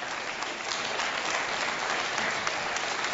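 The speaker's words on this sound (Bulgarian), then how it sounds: "Не дейте пляска," A television studio audience at a Bulgarian dance competition final claps steadily and loudly, a dense unbroken wash of applause with no voices standing out.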